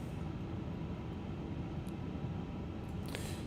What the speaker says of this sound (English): Oh, super noisy plane, as you can hear.